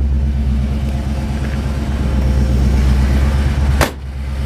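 A 1967 Chevrolet El Camino movie car with a low-mileage engine idles in a loud, deep, steady rumble close by, swelling slightly before cutting out abruptly near the end, with no voices.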